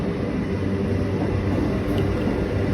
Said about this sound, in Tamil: லோக்கல் ட்ரெயின் சென்ட்ரலை நோக்கி போகுதுங்க.